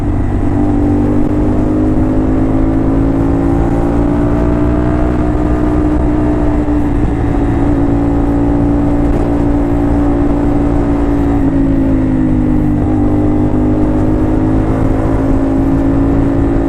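A CF Moto 450 SR motorcycle engine idles steadily while still cool, with a loud, even mid-pitched drone and a slight dip in pitch near the end, no talk over it.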